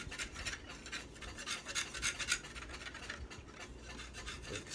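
Coconut shell being scraped clean of its excess fibre, a quiet, close rasping rub repeated in uneven strokes, with no voices.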